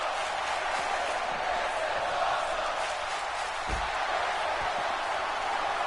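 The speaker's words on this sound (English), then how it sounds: "And the crowd is going nuts." Wrestling crowd in WWE 2K18 roaring steadily in a dense, continuous wash of cheering, with a dull thud partway through.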